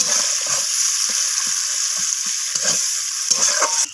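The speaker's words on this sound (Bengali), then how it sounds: "তো পেঁয়াজগুলোকে একটু রং ধরা পর্যন্ত আমি ভেজে নেব।" Onions sizzling in a hot pan, a constant hiss broken by repeated scraping strokes of a spoon stirring at an even rhythm.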